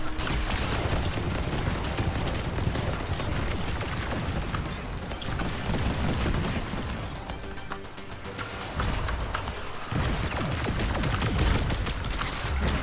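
Heavy sustained gunfire during a boss fight in the video game Warframe, dense overlapping automatic shots and mechanical clatter, loud and continuous with a brief lull near the end.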